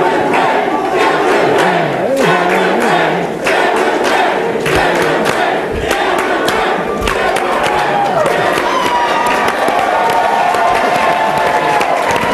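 A large audience at a Young Americans for Liberty national political conference cheers, claps and shouts loudly and continuously, with bursts of whoops rising over sustained applause.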